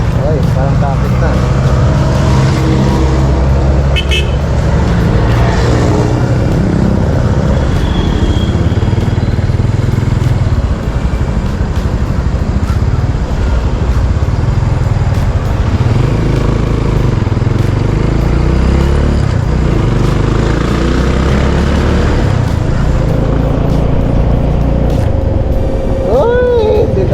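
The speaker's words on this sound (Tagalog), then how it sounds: "Oy, parang traffic na." Steady engine and road noise from vehicles on a highway near Mount Banahaw, a continuous loud rumble of passing cars and motorcycles with some voices underneath throughout.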